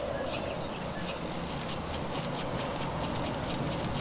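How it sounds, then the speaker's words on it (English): Squirrel chatter in Divinity: Original Sin 2, a low, busy pattering of small squeaks and chirps over steady background ambience, with no speech. "Crazy squirrels."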